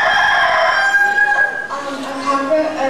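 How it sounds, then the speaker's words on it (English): A rooster crows in one long, strained, tonal call that breaks into lower clucking notes, loud and close, without talk over it, heard during a bird-sound game at Busch Gardens. "A chicken. A chicken, you're absolutely right."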